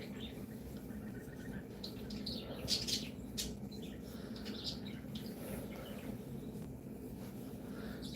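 Small birds chirp and tweet outdoors in faint, scattered bursts over a low background hum, with a brief cluster of louder calls near the middle.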